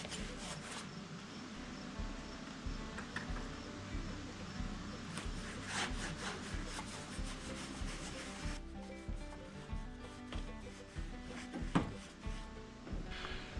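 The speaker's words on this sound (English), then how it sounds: "You got to do a lot of scrubbing with the brush to get the paint in all the little nooks and crannies." A paintbrush scrubs paint into rough OSB aspenite board on a motel's gable-end soffit, giving repeated soft rasping strokes in an uneven rhythm, fairly quiet and close.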